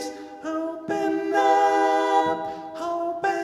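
Droning, bell-like synth tones ring out in sustained chords within a song arrangement, swelling and shifting in pitch over a few seconds with no voices.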